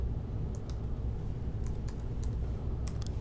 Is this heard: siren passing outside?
no